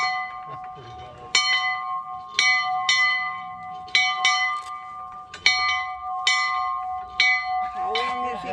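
Church bells ring loudly in an irregular sequence of clear metallic strikes, each tone ringing on and decaying, with faint voices talking underneath near the end.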